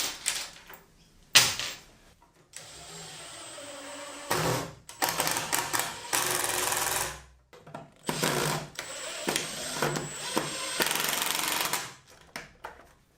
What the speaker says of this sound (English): Let's get some screws in there quick.